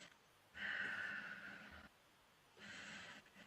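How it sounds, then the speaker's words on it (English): Something unseen breathes behind a closed door, letting out two long, rasping breaths separated by a pause. The breaths are quiet and hoarse, with no voices. "there's something on the other side of the door and it's breathing"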